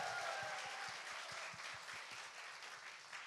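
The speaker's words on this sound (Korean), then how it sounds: "박수를 청해 박수 드리겠습니다" Audience applause at a Korean talk show, steady crowd clapping filling the room at moderate distance, faint and even, with no voices on top.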